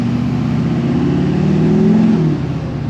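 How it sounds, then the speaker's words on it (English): A deep, rumbling diesel GM pickup truck engine with an axle-dump exhaust revs steadily up close, holding a loud throaty growl before easing back slightly near the end. "I truly love the sound of this truck"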